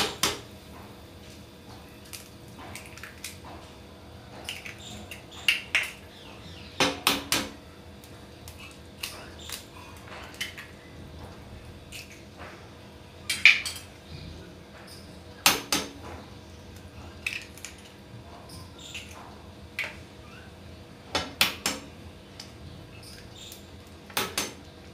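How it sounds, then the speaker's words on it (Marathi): Eggs cracked one at a time into a simmering homemade egg curry: sharp, faint taps spaced several seconds apart over a quiet low bubble, with no voices. "एक एक अंडी फोडून यात सोडायची आहेत।"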